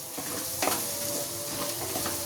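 Kanthari chili chicken masala being sautéed and stirred in a pan, a steady close sizzle with the scrape of a spatula through it and no talking.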